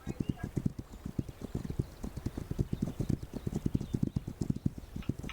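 Horse hooves clip-clop in a video game raid, a rapid, fairly regular patter of many footfalls that continues throughout, with a voice talking over part of it.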